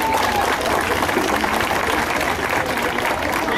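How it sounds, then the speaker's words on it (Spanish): Dense, steady applause and crowd noise fill a pride march event in Taxco, a continuous wash of many hands clapping at close range, with voices mixed into the roar. "Y un aplauso para todas ellas."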